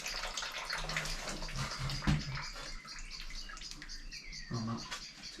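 Water gushing and splashing out of an old washing machine with no drain plug, a loud continuous watery rush with a few brief clunks, under quiet talk.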